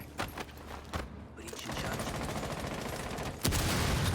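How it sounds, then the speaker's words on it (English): Rapid bursts of gunfire crackle continuously in a Rainbow Six collegiate esports match, with a sharp louder volley near the end amid background noise. "So we already hear some gunfire going on."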